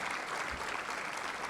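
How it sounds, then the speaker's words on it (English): Audience applause at an event honoring a former Texas House Speaker, a steady wash of clapping from a crowd filling the whole moment with no voices over it. "And I think y'all can applaud."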